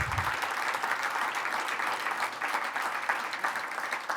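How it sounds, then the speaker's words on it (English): An audience at a gala program with cocktails and a red carpet claps for Bob in dense, steady applause heard at moderate distance, continuing evenly from start to finish. "Would you stand up so we can give you a round of applause?"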